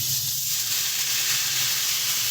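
Water splashed into a hot pan of kakrol curry cooking with fried hilsa fish heads, a loud hissing sizzle that hits at once and keeps steaming steadily.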